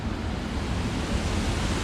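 A waterfall in Nan, Thailand gives a loud, continuous broadband rush with no breaks, heard close by and alone, without any voices.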